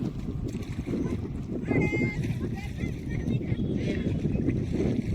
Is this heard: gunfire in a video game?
no